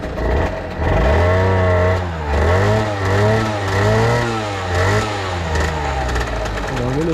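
A Rieju MRT 50cc moped with a Euro 5 AM6 engine, freshly kick-started, runs loud and close, its buzzing two-stroke note rising and falling through repeated revs.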